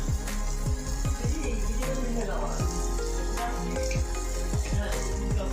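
Asafoetida and turmeric sizzle in hot oil, a dense steady crackle with repeated sharp pops and stirring scrapes throughout, close and fairly loud.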